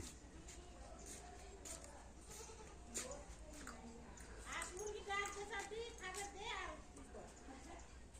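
Goats bleat repeatedly in wavering cries over steady outdoor background noise, with children's voices and chatter mixed in nearby.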